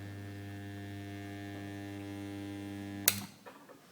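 A homemade spot welder built from a microwave oven transformer gives a steady electrical hum for about three seconds, then a sharp crackling zap as it welds thicker metal sections, followed by fading sputters.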